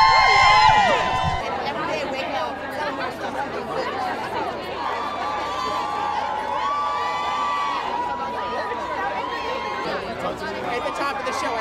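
A lively crowd on the NAACP Image Awards red carpet keeps up a steady, dense chatter of many voices, with a brief louder burst of shouting at the start and the hubbub continuing evenly throughout.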